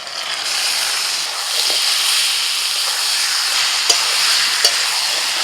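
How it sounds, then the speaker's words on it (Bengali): Marinated mutton fries with half-browned onions in a pan, a continuous loud sizzle and steamy hiss with a couple of brief clicks from stirring. "পেঁয়াজ অর্ধেক ভাজা হয়ে যাওয়ার পর দিয়ে দিচ্ছি ম্যারিনেট করা মটন"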